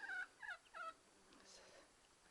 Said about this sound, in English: There's one of our chickens.